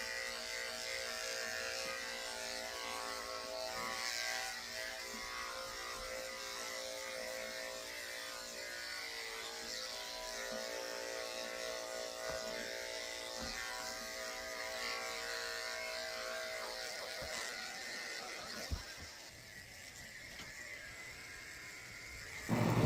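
Electric dog clippers fitted with a number 10 blade shave the base of a senior toy poodle's tail, a steady close buzz running unbroken for most of the clip before cutting off near the end.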